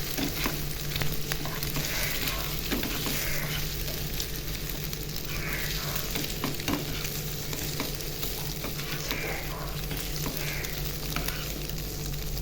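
An egg fries with onion in a pan, a steady close sizzle with occasional stirring scrapes running throughout, and no voices over it.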